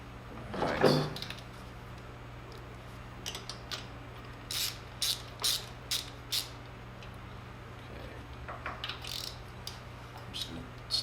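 A steel drain plug is threaded into an aluminum motorcycle oil-pan case by hand, giving faint, sparse metallic clicks and ticks at irregular intervals over a quiet background hum.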